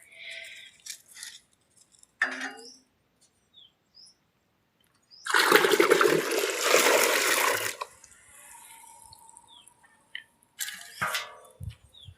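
Water is given to a buffalo in a village setting: a loud burst of splashing, pouring water lasts a couple of seconds in the middle, with scattered clatters and faint bird chirps around it.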